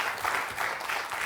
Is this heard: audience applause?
yes